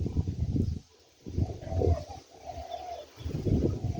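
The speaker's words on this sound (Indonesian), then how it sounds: "tuh suara burung tekukur juga kita dengar ya, kita dengar bersautan" Spotted doves call back and forth outdoors among coconut palms, soft low cooing phrases repeating over a breezy background.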